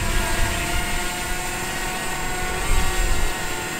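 A drone flying low over Boat Lagoon, its rotors giving a steady, close buzzing whine with slight surges, alone without talk.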